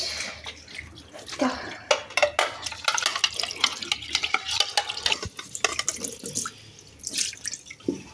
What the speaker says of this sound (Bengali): এই দুটো প্লেট ধুয়ে নিয়ে আসি।